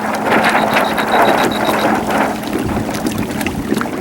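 A Hobie Tandem Island sailboat tacking while dragging lures, heard as steady rushing wind and water noise against the hull, with a short run of faint electronic beeps early on and no talking.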